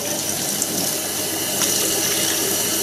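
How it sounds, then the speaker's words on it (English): Clean water rushes and swirls through a homebrewing tube, a continuous close gushing wash that stays fairly loud throughout. "I'll quickly swirl this through with some clean water"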